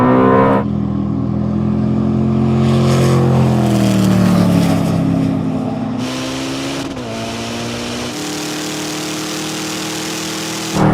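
A Ferrari and a Koenigsegg accelerating side by side in a quarter-mile drag race, a loud engine roar rising in pitch through gear changes, heard steadily and close.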